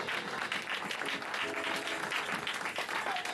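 A church congregation claps for Jesus in dense, sustained applause, a full roomful of hands filling the short moment without a break.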